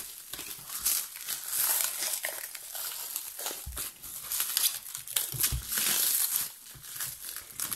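An X-Men book on its characters and universe is unwrapped from its packaging, with close, continuous crinkling and crackling of plastic or paper in irregular bursts and no talking.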